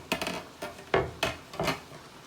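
Brussels sprouts being stirred inside a Power XL cooker: four or five short scraping, clattering strokes of a utensil against the pot, fairly close and moderately loud, with no talking.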